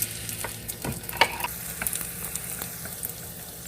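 Spring rolls browning in a pan, a soft steady sizzle of frying with scattered crackles and light stirring taps, close and fairly quiet, no voices.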